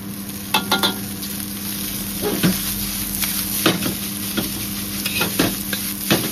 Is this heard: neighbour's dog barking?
no